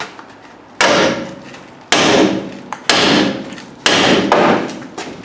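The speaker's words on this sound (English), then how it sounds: "knows how to handle the big hammer very well" A heavy hammer strikes drum brake parts during a drum-to-disc brake conversion, landing four loud, ringing metallic blows spaced about a second apart, each decaying before the next.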